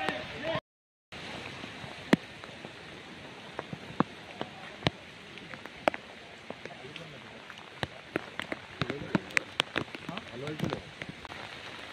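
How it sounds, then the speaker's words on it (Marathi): Heavy rain falling at Matheran hill station, a dense steady patter on surfaces with sharp scattered drips striking nearby throughout, and a voice faintly talking in the background. "खरंच आज जरा जास्तच पाऊस आहे."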